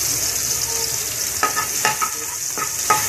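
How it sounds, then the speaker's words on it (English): Garlic, onion and tomatoes sautéing in hot oil, with a steady close sizzle broken by several sharp stirring scrapes of a utensil against the pan, no voices. "if it is already hot, then we can saute the garlic, then the onion, and the tomatoes"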